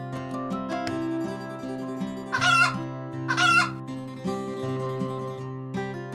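Chickens in the ocean-survival building game Havendock cluck in two short, bright bursts over steady, looping game background music.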